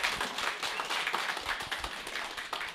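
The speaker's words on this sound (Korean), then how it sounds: "큰 박수로 모시겠습니다" Audience clapping to welcome a speaker onto the stage at a network-marketing business seminar, a steady dense patter of many hands held at moderate level throughout with no talk over it.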